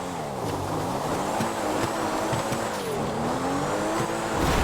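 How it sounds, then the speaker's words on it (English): Car in GTA video game driving off-road over rocks and dirt, a steady loud engine drone with wavering pitch as it bounces across rough terrain, no talk. "The car shakes violently, bouncing across rocks and dirt."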